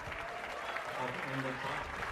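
A high school audience applauds a superintendent at a band program march-a-thon performance, a steady wash of clapping with a voice faintly heard over it.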